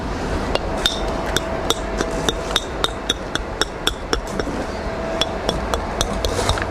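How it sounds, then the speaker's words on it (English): A brick hammer strikes stone again and again while a stone wall is built outdoors, giving about fifteen sharp, ringing cracks at an irregular, steady pace over low background noise, with no talking. "Can't beat a good brick hammer."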